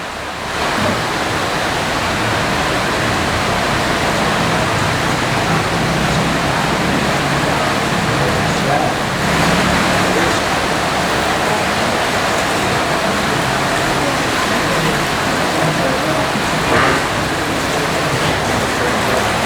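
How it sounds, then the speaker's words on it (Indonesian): Heavy rain pours down in a steady, even roar that fills the whole stretch without a break; no distinct thunderclap stands out. "sambil nunggu hujannya reda"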